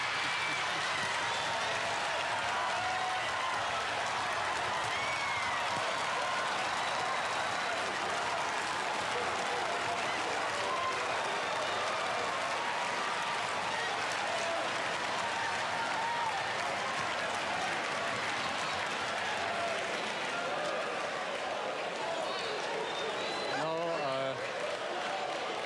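Loud, sustained applause from a large audience, a dense continuous roar of clapping lasting throughout, with faint voices mixed in near the end.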